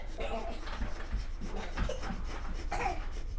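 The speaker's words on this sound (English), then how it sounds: "this is a little razor. So sounds intimidating, sounds like you're going to scratch it off, but it just looks like that" A small razor blade scrapes cooked egg residue off a surface with steady, rasping strokes that repeat close by for several seconds against a soft background.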